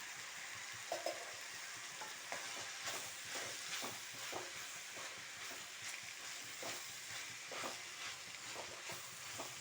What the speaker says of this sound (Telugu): ఇవన్నీ ఒక 5 నిమిషాలు ఆయిల్లో మగ్గనిద్దాము